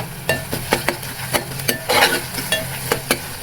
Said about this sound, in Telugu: చూడండి, ఇలా గోల్డెన్ కలర్ వచ్చేదాకా మనం ఫ్రై చేసుకోవాలి.